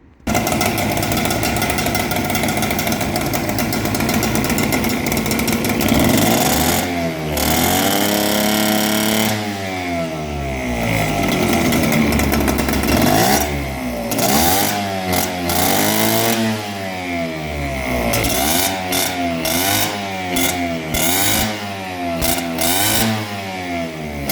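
A small twin-cylinder two-stroke Mobylette moped engine runs loudly and continuously, its pitch rising and falling as the throttle is repeatedly revved, close by.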